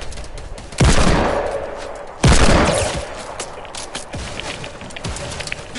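Gunfire in a video game: two loud, sharp shots crack out about a second and a half apart and are followed by a dense spray of rapid gunfire and scattered pops, with no talking.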